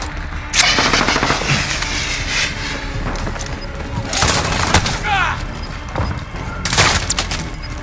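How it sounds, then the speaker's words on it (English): Sentry gun firing in Call of Duty: Modern Warfare, rapid automatic bursts and booming shots loud and dense throughout, with game noise and voices mixed in. "Friendly sentry gun online."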